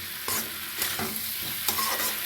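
Spices and a fish curry base with cauliflower being stir-fried in a pan, with a constant loud sizzle broken by several scraping spatula strokes.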